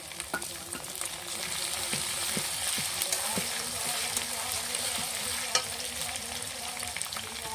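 Chopped tomato goes into chicken curry with potatoes frying in a pot, and a steady close sizzle continues throughout while a spoon stirs, leaving scattered clinks and scrapes against the pan.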